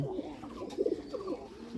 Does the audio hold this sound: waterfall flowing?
no